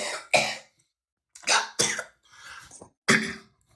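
Several harsh coughs close to the microphone, coming in irregular bursts with short silent gaps and some throat clearing, no talking.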